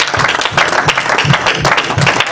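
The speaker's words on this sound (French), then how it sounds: "alors acclamez le Seigneur" A congregation at a French-language church service applauds and cheers for the Lord, a dense, steady wash of clapping with rhythmic surges that runs throughout.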